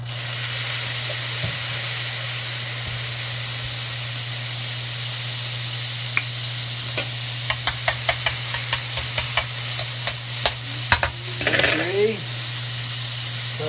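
Garlic frying in a hot pan over medium-high heat for street-style Thai basil chicken: a steady close hiss, with a run of sharp pops and crackles toward the end.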